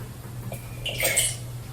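Water trickles and splashes briefly from washed lettuce being squeezed over a paper towel in a kitchen, a soft close splash in a quiet room.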